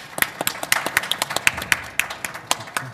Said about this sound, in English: I want to give the panel a round of applause for an excellent discussion